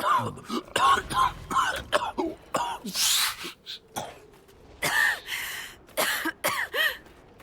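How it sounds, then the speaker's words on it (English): Repeated harsh coughing and throat-clearing bursts, close up, coming in irregular clusters with a few gasping, choking sounds between them. "Coughing and choking."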